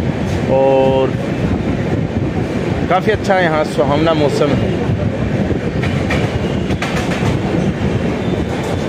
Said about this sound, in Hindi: भायंदर जो रेलवे स्टेशन है वहां से अभी गाड़ी क्रॉस हो रही है